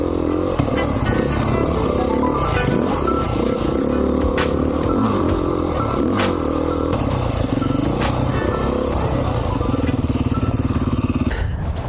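A 2019 Beta 500 RR-S dirt bike fitted with an FMF Q4 exhaust rides single track, its engine droning loud and steady throughout with rising and falling throttle and occasional clatter.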